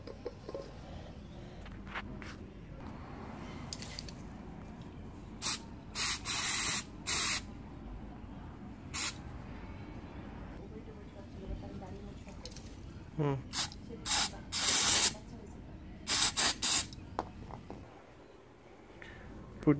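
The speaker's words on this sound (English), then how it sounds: "Next step is clean the caliper with the brake cleaner." Brake cleaner sprays onto a Vespa PX front brake caliper in several short, sharp hissing bursts, some in quick clusters, over a quiet workshop background with no talking.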